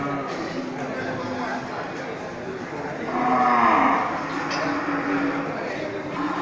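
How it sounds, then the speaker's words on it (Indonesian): A male Aceh bull lows once in a long, loud moo amid a cattle market, with someone talking before and after the call and other animals and chatter in the background. "mantap ya, sapi-sapi Aceh super."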